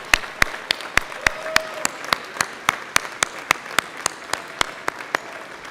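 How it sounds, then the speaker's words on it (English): Commencement audience applause for families and friends, heard as sharp, evenly spaced claps in a steady rhythm that stand out over a faint crowd wash. "Let's give them a big round of applause."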